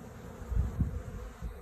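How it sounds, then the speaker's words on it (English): Honey bees buzzing in a bee yard, a low droning hum with a few louder passes close by, heard without talk. "I'm just hanging out in the bee yard."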